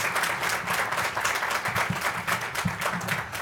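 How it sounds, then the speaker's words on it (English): Steady applause from a ribbon-cutting crowd at a community engagement center, many hands clapping in a continuous, moderately loud patter. "So let's give them a big round of applause."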